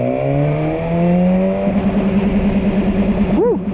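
A 2019 second-generation BMW S1000R motorcycle engine revs up toward 6,000 RPM while riding, a loud, close engine drone with rising harmonics that then settles into a steady pulsing hum, with a brief whine near the end.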